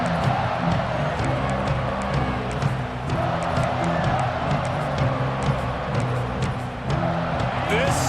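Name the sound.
stadium crowd cheering in EA Sports College Football 26 video game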